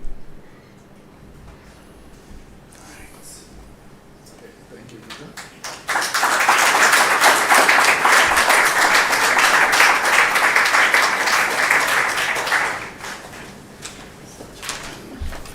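Applause from an audience at a research conference plenary session bursts out loudly and holds as dense, sustained clapping for about seven seconds before tapering off. A voice speaks in the quieter stretch before it starts.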